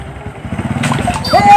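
A new motorcycle engine revs up near at hand, its rising drone building under lively voices talking over it, growing louder toward the end.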